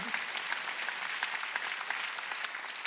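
A church congregation at a Wednesday worship service claps together in a dense, steady burst of applause, close and continuous for a few seconds.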